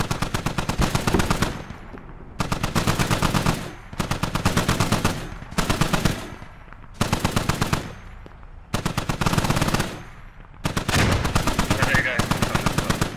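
Bursts of machine gun fire from a tactical military shooter game, loud and close, coming in repeated sustained volleys of rapid shots with short gaps between them, no talking.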